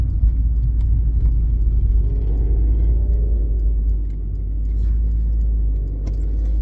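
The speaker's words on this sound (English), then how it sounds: "Beautiful sounding V8." A 1986 Porsche 928 V8 idles close by with a heavy, steady low rumble and a slight swell partway through, and no voices are heard.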